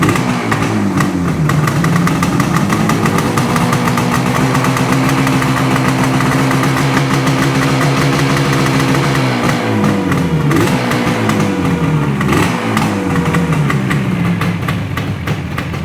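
A Yamaha RD400 two-stroke motorcycle engine idles with the choke on, loud and close, holding a steady buzzing beat throughout with brief dips in pitch near the end.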